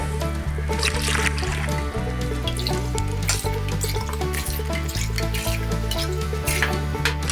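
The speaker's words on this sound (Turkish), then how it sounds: "Ve 5 su bardağı su ilave edeceğiz tenceremize." Water splashes and trickles into a pot of starch for bici bici, partly masked by steady background music playing throughout.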